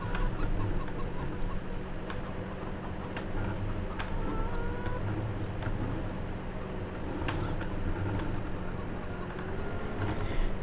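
Hens clucking in scattered bursts over a steady low engine-like hum and ambient background noise in Farming Simulator 17, with no talking.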